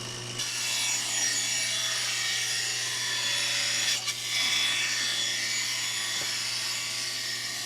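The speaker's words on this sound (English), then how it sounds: "I'm cutting plywood for the revolving seat here." A power saw cuts through plywood for a revolving seat, giving a continuous loud whining rasp with a low motor hum underneath and small dips in pitch as the blade bites, no voices.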